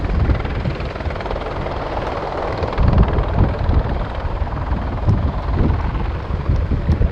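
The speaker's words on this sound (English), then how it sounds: "Ladies and gentlemen, the British Army Apache attack helicopter" A British Army Apache attack helicopter roars steadily overhead at the RIAT air show, a loud continuous rotor and engine drone with wind buffeting the microphone and no talking.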